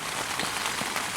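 Steady rain patters on a tent in the southern Utah backcountry, a dense continuous hiss of drops with a few slightly louder taps, close and even, with no voices.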